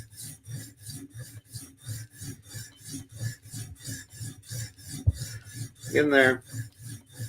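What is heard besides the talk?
filing bevels while sharpening a blade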